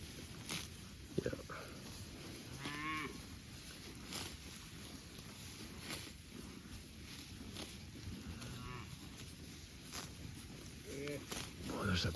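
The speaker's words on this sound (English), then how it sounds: "there's a pretty cow right there" Farm cattle moo a few times at moderate distance, low drawn-out calls scattered through a noisy outdoor scene with wind, shuffling and people talking nearby.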